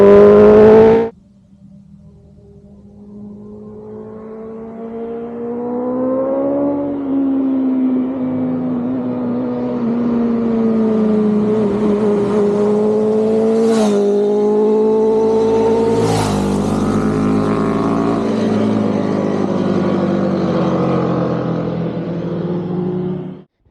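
A KTM Superduke 1390R EVO and a BMW M1000R race past, loud engine drone climbing steadily in pitch as they accelerate, with two sharp swells as each bike sweeps close by, then fading away with no talking.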